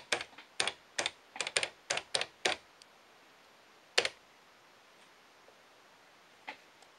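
Keys clack on an Acorn RiscPC computer keyboard, a quick close-up burst of about a dozen crisp strokes, then a pause and two isolated taps in a quiet room.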